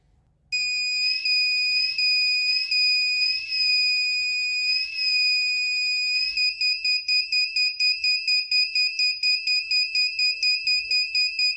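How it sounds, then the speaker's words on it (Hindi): A light-operated doorbell alarm, triggered by a phone torch shining on it, rings loudly and alone: a series of sharp electronic tone bursts that switch to a rapid, steady pulsing beep midway. "अब जैसे ही इस पर लाइट पड़ेगा तो क्या होगा, अलार्म बजने लगेगा।"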